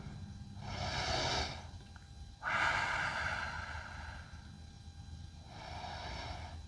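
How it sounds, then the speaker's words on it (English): Slow, deep breaths during a yoga stretch in a strength and mobility routine, three long airy inhales and exhales spaced a couple of seconds apart, close and soft over a low hum. "We'll take a few rounds of breath here."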